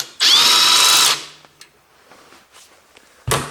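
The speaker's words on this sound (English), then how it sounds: "now I can use my electric driver that I can take these bolts faster away" An electric screwdriver spins out a starter motor bolt with a loud, steady high-pitched whine lasting about a second, followed by small metallic clicks and handling, then a second short burst of the driver.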